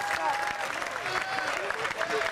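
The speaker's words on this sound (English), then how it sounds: "Give both a nice round of applause." Audience applause at a fair show, a steady mid-level wash of clapping with some crowd noise and voices mixed in.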